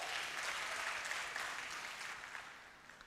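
An audience at an African innovation challenge event applauds the top five winners, a brisk wash of clapping that starts full and gradually thins out toward the end, with no talk over it.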